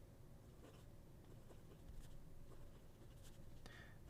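A medium-nib fountain pen scratches across Rhodia N12 paper in soft, faint strokes and brief scrapes, quiet and close over a low background hum.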